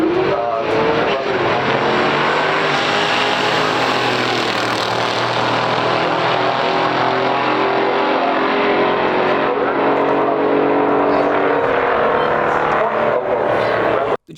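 A 1968 Pontiac GTO Ram Air II and a 1970 Oldsmobile F85 W31 race down a drag strip at a stock drag racing event, their engines roaring loud and sustained at full throttle before cutting off abruptly at the end.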